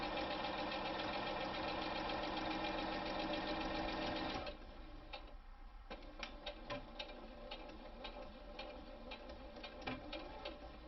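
A sewing machine stitches a face mask holder in one steady, close, rhythmic whir lasting several seconds, then stops, leaving faint ticking and handling clicks.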